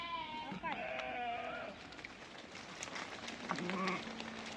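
Several sheep bleat close by, wavering calls overlapping one another, with a constant hiss and faint voices behind.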